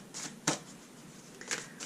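Fortune-reading cards shuffled by hand: two quick, crisp riffling bursts about a second apart, quiet and close, with no talking.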